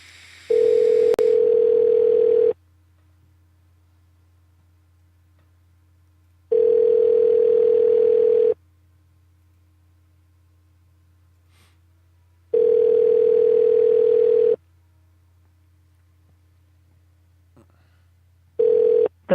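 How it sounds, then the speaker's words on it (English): A telephone ringback tone repeats on a call line: four evenly spaced two-second rings separated by longer silences, loud and clear against a low steady hum. "Let me give him a call again."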